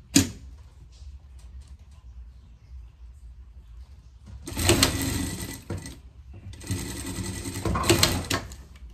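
A sewing machine stitches piping onto a fabric coat for a greyhound, running in two loud rattling bursts after a quieter stretch of handling noise and soft clicks.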